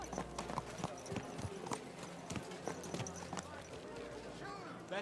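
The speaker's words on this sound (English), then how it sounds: "What a beautiful horse." Horse hooves clip-clop at a walking pace in Kingdom Come: Deliverance 2, with distant voices and ambient town bustle in the background.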